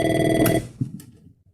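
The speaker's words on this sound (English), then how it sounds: "Phone rings." A telephone rings in an HR office, with a loud, sustained electronic ring lasting just over half a second, then a couple of faint clicks and knocks as the room goes quiet.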